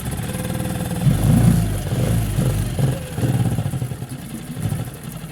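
A small gasoline motor runs steadily with the fuel hose disconnected, burning off leftover gasoline, a close, low rumbling putter with a slight rise and fall and no speech.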